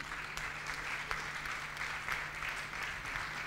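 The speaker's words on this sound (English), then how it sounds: "Let's have a non-stop clapping." Steady, fairly faint applause from an audience at a hospital anniversary award ceremony, continuous clapping without a break, with a low hum underneath.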